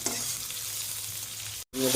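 Onion and broiler chicken fry in a pan with a loud, constant sizzle and stirring, broken by a brief cut of silence before the hiss returns.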